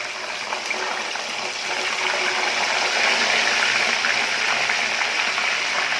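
Potato peels and trimmed potato pieces, still wet from water, fry in hot oil with a steady, loud sizzle full of dense crackling pops that build slightly over several seconds. No voices are heard.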